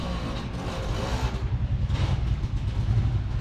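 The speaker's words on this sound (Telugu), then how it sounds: "ట్రాఫిక్ నాయిస్ వస్తుంది, ఇగ్నోర్ చేయండి." Road traffic beside a national highway in Jagtial: a steady, fairly loud rumble of car and truck engines passing nearby, with no talk over it.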